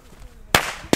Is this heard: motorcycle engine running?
no